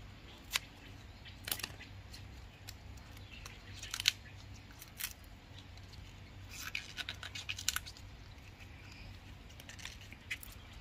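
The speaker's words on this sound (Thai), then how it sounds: "จริงๆใช้มีดก็ได้นะครับพอดีมีกรรไกรอยู่ใกล้มือก็เลยใช้" Scissors snip through a variegated banana offshoot freshly dug from the ground, giving a series of short, close, crisp cuts in uneven rhythm against a quiet background.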